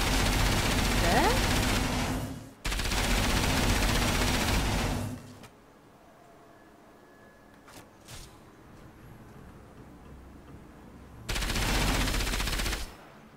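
Automatic gunfire aimed at a sentry gun in Enslaved: Odyssey to the West comes in three loud, sustained machine-gun bursts, two back to back at the start and one near the end, with a quiet gap between.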